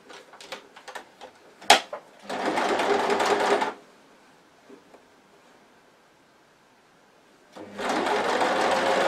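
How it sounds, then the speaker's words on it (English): A sewing machine stitching a quarter-inch seam on a fabric mug coaster, running in two loud close bursts of rapid whirring separated by a quiet pause, with brief handling clicks and rustles at the start. "just stitch along that 1/4 inch seam allowance again."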